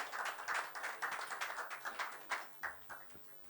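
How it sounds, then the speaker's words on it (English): Scattered, modest clapping from a hotel function audience at a tech-day evening event as a speaker is called to the stage, a few distinct claps fading out near the end. "Big round of applause, guys."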